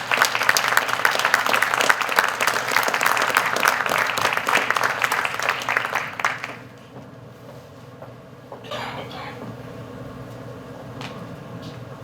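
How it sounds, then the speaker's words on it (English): An audience at a presentation on the Wisconsin school voucher program welcomes a speaker with dense, sustained applause lasting about six seconds before it dies away, followed by faint room noise and brief talking. "let's welcome Dr. Mead with a round of applause"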